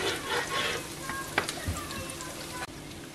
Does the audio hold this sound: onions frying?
yes